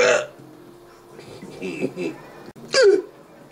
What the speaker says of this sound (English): Please, no more hiccups.